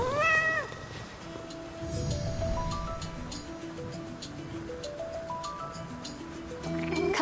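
A cat in the Hades II video game gives a clear, close meow at the start, followed by soft game music and ambience with another short meow near the end.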